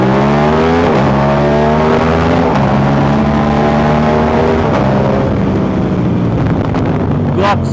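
An Aprilia RS660 sport motorcycle fitted with a new aftermarket exhaust is ridden, its engine droning loud and steady with rising pitch sweeps as it accelerates through the gears, heard close with wind rushing past.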